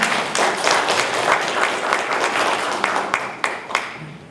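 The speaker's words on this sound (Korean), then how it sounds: "여러분 박수로 맞이해 주시면 고맙겠습니다." Audience applause at a nuclear safety council forum in Korea welcoming the next speaker, a dense patter of many hands clapping steadily, with a few sharper claps standing out toward the end.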